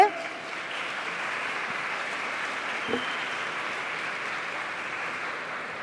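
Audience applause at a round-table conference event in a former national congress hall, a steady broadband wash of clapping held at an even level for several seconds, with no clear speech over it.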